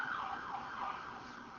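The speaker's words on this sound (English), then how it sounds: "Sirens in the background." An ambulance siren wails in the background in a city near a hospital, its pitch rising and falling steadily, faint and distant with no voices over it.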